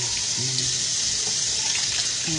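Tap water runs steadily into a kitchen sink while dishes are washed, a constant close hiss with faint clinks and low hum beneath it and no talking.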